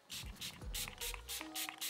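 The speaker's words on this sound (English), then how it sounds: "So I'm gonna spray it a little bit." Too Faced setting spray is misted onto a makeup sponge in several short, close, airy spritzes in an irregular rhythm, with faint handling noises between them.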